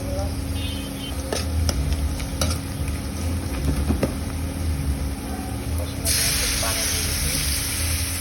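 Chopped onions and green chilies sautéing in a pan, a loud close sizzle and hiss with clinks and stirring scrapes, a brighter hiss surging near the end.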